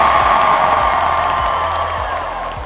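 A large crowd at a TikTok summit in Canada cheers and whoops loudly for Michael Bublé, a sustained roar of shouting voices with some clapping mixed in.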